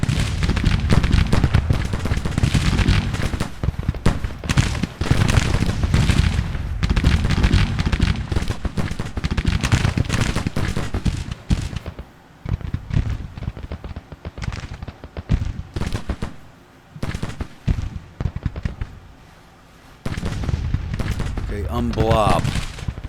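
Musket volleys from a Civil War battle in the strategy game Grand Tactician at Fredericksburg, dense crackling gunfire rolling nearly continuously, thinning out briefly partway through before resuming.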